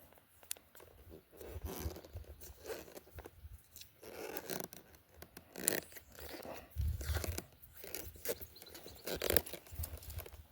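Metal detector coil cable being taped, with irregular crackles, tearing and crinkling sounds coming close and fairly quiet in uneven bursts, with no talk.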